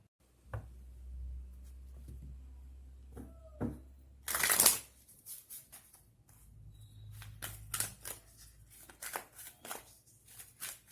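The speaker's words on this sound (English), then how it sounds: "let's shuffle." A deck of cards is shuffled up close, with a loud riffle burst followed by a run of crisp, rapid flicks and taps.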